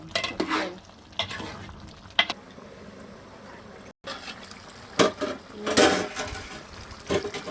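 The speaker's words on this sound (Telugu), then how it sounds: "ఒకసారి బాగా కలుపుకొని ఆ నీళ్ళు మిగిలిపోవాలి అత్తయ్య" A spoon stirs chicken curry in a pan while the cooking water boils off, giving bursts of scraping and stirring over a soft, steady sizzle, with a short silent break midway.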